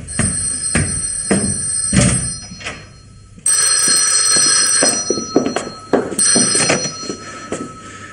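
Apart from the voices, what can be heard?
telephone ringing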